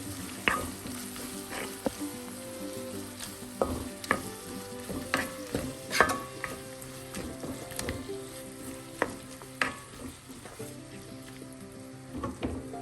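Softened tomatoes with a teaspoon of salt sauté in a pan for potato masala curry, giving a low, steady sizzle broken by irregular scraping clinks as a spoon stirs them, close by and fairly quiet.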